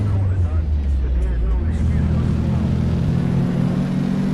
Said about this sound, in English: Oh, man, listen to this engine.